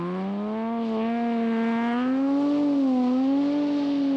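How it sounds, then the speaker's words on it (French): A Nissan 350Z six-cylinder GT rally car at a 2006 rally in the Ardennes holds a loud, smooth engine note close by, its pitch climbing and dipping gently as the revs shift, with no talk over it. "Superbe sonorité du 6 cylindres."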